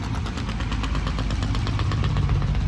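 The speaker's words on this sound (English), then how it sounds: "This is a loud ass truck." A loud Infiniti truck engine runs steadily up close, its deep, continuous rumble holding strong with a rough, pulsing texture throughout, with no talk.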